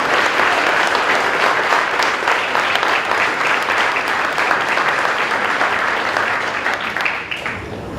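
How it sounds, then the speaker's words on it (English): Steady applause from an audience at a 2016 presentation day, honouring a presenter named Angie; dense, even clapping that holds throughout and tapers slightly toward the end, with no talk. "so give her another round of applause."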